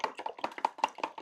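Quail egg mixture seasoned with salt and cumin being beaten by hand in a bowl, a quick run of about six light, even taps from the utensil striking the bowl, close and clear with no talking.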